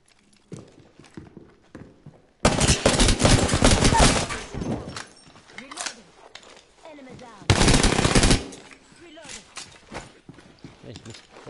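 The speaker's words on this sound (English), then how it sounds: "Yeah, I'm doing the RE45 since I've got it." Bursts of RE45 pistol fire in a first-person shooter, two loud dense volleys of rapid shots separated by quieter footsteps and game noise, with players talking over parts of it.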